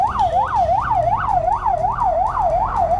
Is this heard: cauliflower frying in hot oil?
no